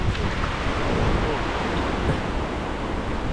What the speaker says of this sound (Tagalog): May mga malakas na po yung agos.